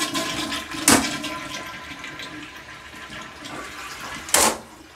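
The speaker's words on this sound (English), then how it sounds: "So I want to go ahead and flush the toilet." A toilet that has just been cleaned with WD-40 is flushed, producing a steady, close rush of running and refilling water that lasts several seconds, marked by two brief louder splashes, with no one speaking.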